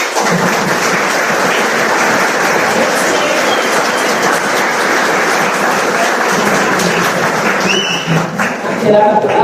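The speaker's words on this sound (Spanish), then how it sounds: "un aplauso para nosotros mismos." A law class claps for itself in a loud, dense, sustained round of applause that fills the room, with a few voices mixed in.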